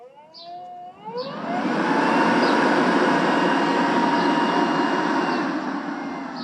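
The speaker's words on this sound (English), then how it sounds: "Up here you've got a dial for your fan, so that goes from 1 to 10 and you can hear it." A campervan roof ventilation fan spins up after a brief click and settles into a steady, loud whooshing hum with a faint tonal whine, running on without voices.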